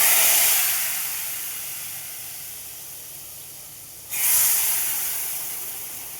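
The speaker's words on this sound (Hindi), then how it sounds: "तो अब हम इसमें चाशनी डालने लगे हैं" Sugar syrup pours into hot semolina halwa with a loud, steamy hiss that fades slowly, then surges again as a second pour goes in, with no talking.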